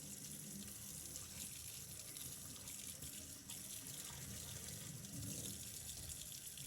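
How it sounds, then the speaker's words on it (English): Running tap water streams steadily over a keris blade being rinsed after rust removal, a constant close hiss and splash with no talking. "Rinsing the Keris blade under running water reveals just how much surface rust has been removed"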